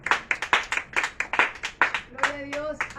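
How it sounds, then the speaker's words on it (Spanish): A church congregation at a Spanish-language worship service claps in a loud, quick, uneven burst of applause with voices mixed in. Near the end the clapping thins out and a short sung or held vocal tone comes through. "Un aplauso a Dios"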